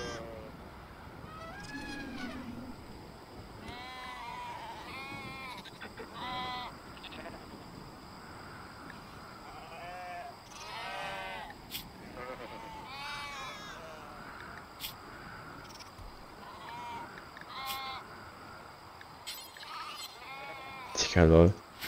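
Sheep in the video game RimWorld bleat repeatedly, with several overlapping wavering calls spread through the stretch, some close and loud, against a steady game background hum.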